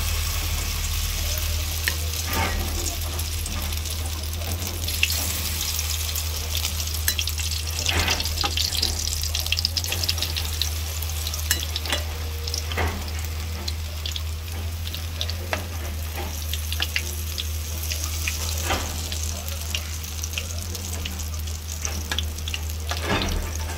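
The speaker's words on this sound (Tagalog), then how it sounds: "mainit na po yung kawali, no? Prito na tayo." Steady sizzling and crackling of shrimp paste omelette (tortang alamang) frying in a hot pan, continuous and close, with scattered pops and a low hum underneath.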